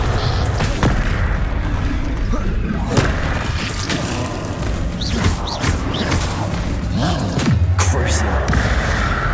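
Bombarda spell explosions in the game Hogwarts Legacy sound as repeated heavy booms and thuds amid combat clatter and whooshes, with a voice shouting over the action.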